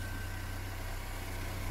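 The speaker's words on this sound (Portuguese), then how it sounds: "Carro em funcionamento, sensor novo" A Fiat Palio engine idles steadily with a new sensor fitted, giving a constant, even hum with no change in pace, heard alone without talk.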